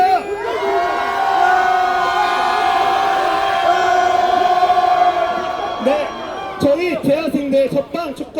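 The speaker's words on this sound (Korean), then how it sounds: "네, 함성 다시 외치고 있습니다. 함성 시작!" Protesters at a press conference outside the Seoul Western District Court raise a loud collective roar in unison, a long sustained shout that breaks into choppier bursts near the end.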